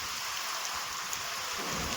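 Steady monsoon rain falls over a groundnut field, a soft, even hiss of drops on surfaces with no voices.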